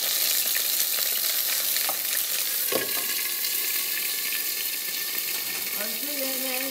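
Curry leaves sizzle in hot oil in a pan, a steady broadband crackle throughout, with a brief clatter near the middle and a rising tonal squeak toward the end; no talking.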